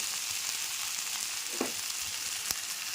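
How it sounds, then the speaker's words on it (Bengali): Potato, eggplant and shrimp fry in a pan without water, giving a steady, close sizzle with a couple of faint clicks and stirring scrapes along the way. "জল ছাড়া আলু বেগুন আর চিংড়ি মাছের ফ্রাই"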